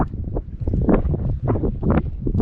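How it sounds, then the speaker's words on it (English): Wind buffets the microphone on a lake during summer bass fishing at Shearon Harris, with loud, irregular low rumbling gusts rising and falling throughout. "We got the wind, which is really helping."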